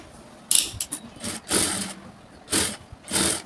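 A sewing machine runs in short loud bursts, putting small stitches into a blouse, with pauses and soft handling noises in between.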